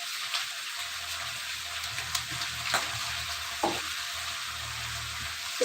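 Beef skin stir-fry being stirred in a pan, a steady sizzle of frying with scraping stir strokes and occasional clinks, close and alone without talk.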